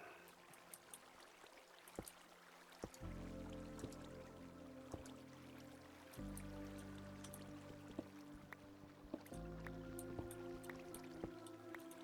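Flowing water in the Minecraft video game, a steady soft trickle and drip running throughout with occasional small splashes, low in level and with no voices.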